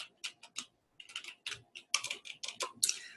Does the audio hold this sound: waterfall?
no